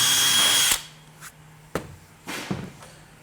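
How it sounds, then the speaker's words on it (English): Drill bit of 3/16 inch boring out a rivet on a Wilson Case shipping case: a loud whining burst at the start, then stops and short knocks and scrapes as the work is handled, with no talk. "he's going to need a 3/16 or a number 11 drill bit, and he's going to drill that hole out"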